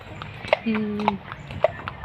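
A few hoof clops ring out on a hard surface, spaced unevenly, alongside a short whistle-like tone and background chatter.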